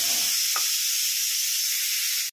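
Fennel seeds, dried chili and bay leaf tempering in hot oil give a steady, close hissing sizzle that fills the clip alone and cuts off sharply at the end.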